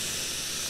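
Prison showers run in the video game Prison Simulator, a steady, even hiss of spraying water that stays constant throughout at moderate level with no voices.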